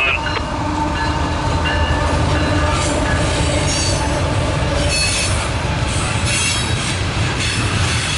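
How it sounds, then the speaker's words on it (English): A loaded CSX coal freight train with helper locomotives rolls past close by, a loud continuous roar of wheels on rail with squealing flanges and metallic rattle throughout. "Here comes this train. Ah, loaded coal."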